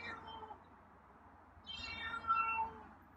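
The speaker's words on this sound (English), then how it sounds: "Wow, that's a meow." A single faint meow from a feral cat, rising briefly over quiet background noise.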